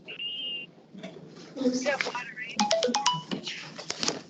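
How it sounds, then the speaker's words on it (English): A phone ringtone plays during an indoor meeting: a brief steady electronic tone, then a rapid run of chirpy melodic beeps, fairly faint, with people talking over it. "that's your phone."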